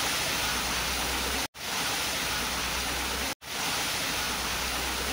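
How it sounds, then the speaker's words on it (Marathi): Heavy monsoon rainwater in Mumbai rushes in a steady, loud, broadband roar that continues without pause, broken only by two brief cuts. "इथे कशा प्रकारे पाणी जोरात येत आहे ते बघा, पाण्याचा प्रवाह बघू शकता तुम्ही"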